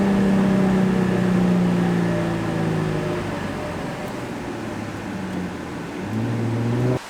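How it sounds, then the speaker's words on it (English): A Nissan 350Z with a dual Tomei exhaust drops gears, its loud, close exhaust note falling steadily in pitch, then a sharp rev blip as it downshifts and climbs again, followed by a sudden cutoff. "Are you ready for a crisp downshift?"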